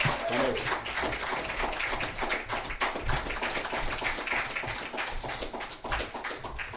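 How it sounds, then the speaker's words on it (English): Dense, steady applause from a crowd, many hands clapping at once in a continuous wash of sound with no voices standing out. "Let's bring her on with a rousing round of applause."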